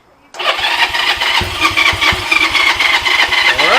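A Honda Rebel 250 motorcycle with a bent valve and freshly cleaned carburetor cranks over and catches, a close, loud, rough engine chugging unevenly right after a brief quiet moment.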